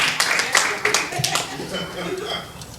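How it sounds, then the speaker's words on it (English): Clapping and scattered laughter from a stand-up comedy audience at the Ice House Annex, Pasadena, with a voice talking over it; the applause comes in uneven bursts and fades toward the end. "Let's give Melissa a big round of applause for doing this show."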